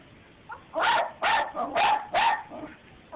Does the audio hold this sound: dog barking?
yes